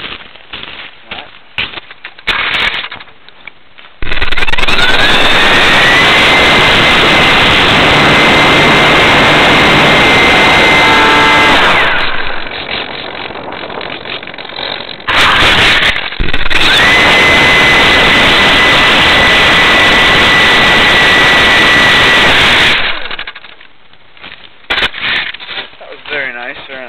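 Air Tractor crop-duster engine roaring onboard during takeoff, a loud sustained turbine-like drone with a rising whine, dropping briefly mid-run before surging again, then fading near the end.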